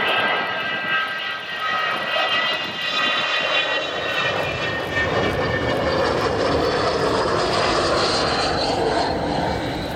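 Avro Vulcan XH558 jet bomber approaching at an air show, a rising, rumbling engine roar with a whining tonal edge that swells and grows steadily louder as the aircraft nears, with no talk over it.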